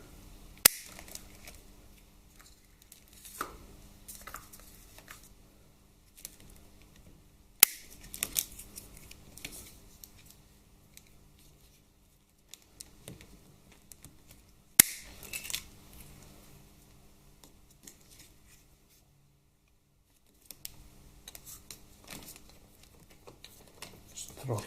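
Scissors or cutters snip through cable ties holding the wiring on a Harley-Davidson Twin Cam 88 motorcycle frame: three sharp, isolated clicks spaced several seconds apart over a quiet workshop background with faint shuffling.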